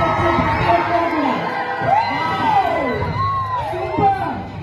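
Crowd at a red carpet event shouting, whooping and cheering, overlapping excited yells rising and falling over a constant roar of voices, loud and close throughout.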